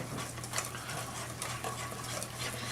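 Cupcake batter for Halloween pumpkin cupcakes being whisked together, a continuous close scraping and swishing of a whisk in a bowl with a steady low hum beneath, no talking.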